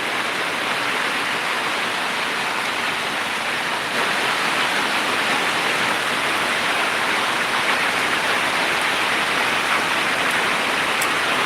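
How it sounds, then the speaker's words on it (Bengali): Heavy rain pours down steadily on a village in Comilla, Bangladesh, during a Kalbaishakhi storm, making a loud, dense, unbroken hiss close by. "এই যে দেখেন বৃষ্টির পরিস্থিতি"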